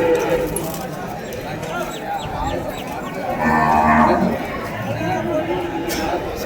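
Cart bulls moo at a busy cattle market in Vaniyambadi, low calls rising out of a steady crowd din with people talking nearby throughout.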